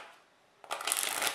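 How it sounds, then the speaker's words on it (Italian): Playing cards shuffled during a card trick, a brief quiet pause followed by a close, fast riffling flutter lasting under a second. "Andiamo a mescolare le carte."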